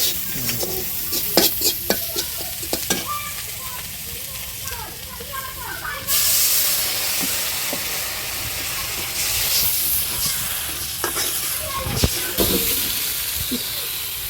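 Hot oil spatters and crackles in a frying pan, a loud hissing sizzle that swells sharply midway and stays strong, with scattered pops and voices talking nearby.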